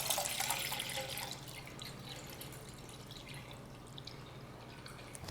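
Water from a 17-ounce plastic bottle pours into a metal cooking pot set on an Esbit stove, making a quiet continuous splashing trickle that is strongest at first and then settles into a softer stream, with no voices.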